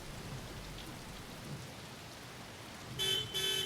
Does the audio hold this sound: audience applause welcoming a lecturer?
no